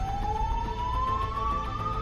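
A wailing ambulance siren on an emergency call in Australia, a single steady tone slowly rising in pitch, heard clearly and fairly close over a low rumbling background, with no speech.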